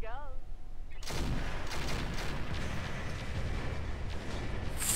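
Weapon barrage in the mech game Roguetech: after a second of near-quiet, a dense, loud roar of overlapping gunfire and explosions rolls on without a break.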